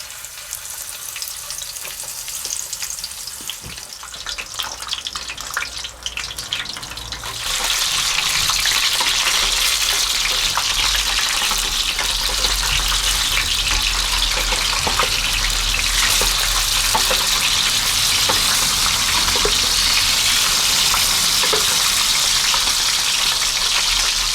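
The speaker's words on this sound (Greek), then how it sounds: "Θα τηγανίσω σε ελαιόλαδο." Mackerel sizzles in olive oil in a frying pan, a loud, steady crackling hiss that swells and thickens partway through and then holds, with no talking.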